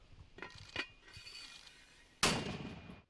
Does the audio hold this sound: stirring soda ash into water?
no